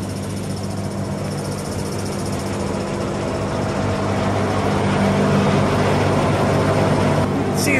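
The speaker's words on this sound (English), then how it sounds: "I guess this engine is a 1928, so 96-year-old motor running this mill." A 1928 Westinghouse electric motor drives a mill through a direct drive line with U-joints, producing a loud, steady mechanical hum and rumble with a constant whine layered on top and no letup.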